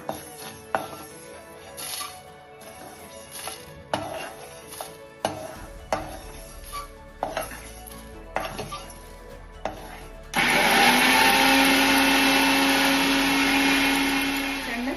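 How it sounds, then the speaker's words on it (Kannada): Several clinks and taps of roasted spices going into a jar, then a loud, steady motorized grinding whir of a mixer grinder running continuously to the end. "ಈಗ ನಾವು ಇದು ತಕ್ಕೊಂಡು ಮಿಕ್ಸಿ ಜಾರಿಗೆ ಸಣ್ಣ ಪುಡಿ ಮಾಡ್ಕೊಳ್ಳೋಣ"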